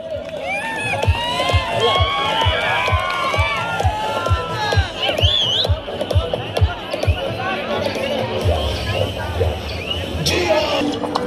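Spectators at an outdoor kabaddi tournament match in Kalaburagi clap, whistle and cheer continuously, with steady rhythmic thumps and crowd chatter beneath, while an announcer talks over the din throughout.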